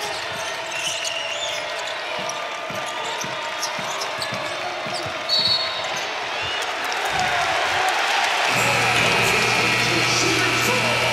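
A home basketball crowd at the Lloyd Noble Center rises into loud cheering for a made three-pointer by an Oklahoma Sooners shooter against Kansas, after sneaker squeaks and ball bounces on the court, with a commentator talking over it.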